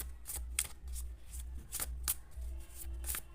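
Tarot cards are shuffled close by in quick repeated riffling bursts with soft slaps, continuing steadily throughout.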